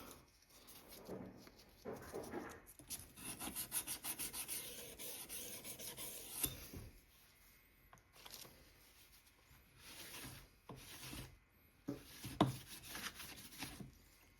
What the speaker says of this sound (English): holding down the sandpaper onto the rails